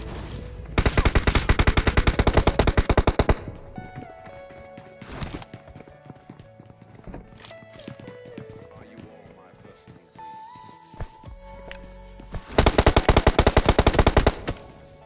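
Bursts of automatic gunfire in a battle royale mobile game match, two long rapid-fire volleys at the start and end, with scattered shots, clicks and footstep-like taps in between while someone talks over much of it.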